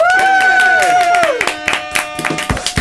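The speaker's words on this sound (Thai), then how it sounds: "ขอเสียงปรบมือต้อนรับมาตังระดับดาวครับผม" Audience clapping and applause welcoming a singer, a dense patter of hand claps under a loud sustained tonal musical sweep at the start, thinning toward the end, with voices present.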